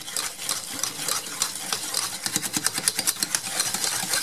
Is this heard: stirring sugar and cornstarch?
yes